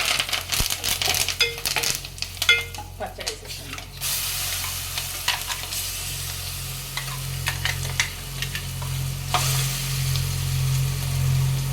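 A tempering of turmeric and curry leaves sizzles in a pan for cucumber chutney, a bright crackling hiss with spoon clicks and scrapes early on, then a steadier sizzle with a low hum underneath.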